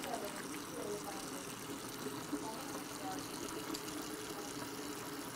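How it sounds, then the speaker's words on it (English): Warm tap water runs steadily from a faucet during handwashing, a soft continuous splash and gush at low level with faint voice-like sounds underneath. "You want to make sure you wash your hands for 20 seconds with warm water"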